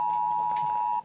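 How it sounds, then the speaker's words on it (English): A steady electronic alarm tone holds for about a second before cutting off, loud and close, with a faint background hum beneath it and no speech. "Just getting like an alarm."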